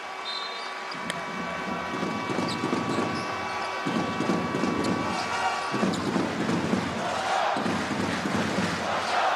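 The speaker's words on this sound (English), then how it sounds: "the crowd are certainly starting to become a factor in this game" A basketball arena crowd in Amman roars and cheers through a game, a dense, loud and continuous swell of voices that rises and falls, with a few sharp knocks cutting through.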